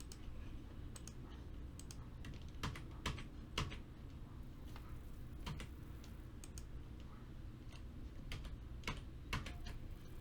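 Computer keyboard typing, faint and close: irregular clusters of light key clicks and taps, with a few sharper strokes, over a quiet room hum, with no voices.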